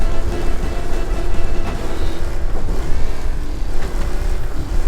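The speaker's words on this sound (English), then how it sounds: "I'm driving a fast car." A fast car driving in Mafia: Definitive Edition, with a steady, loud engine roar and road rumble running throughout and no speech.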